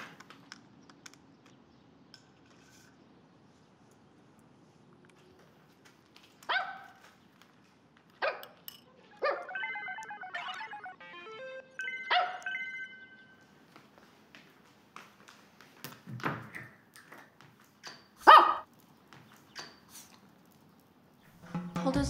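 A small dog gives sporadic sharp barks and yips, scattered among quiet gaps and light clicking sounds.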